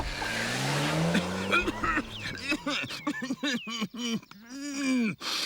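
Enormous cartoon car rumbling along with a low engine drone and skidding tire squeals, joined by lively chattering voices and bouncy, sliding cartoon sound effects.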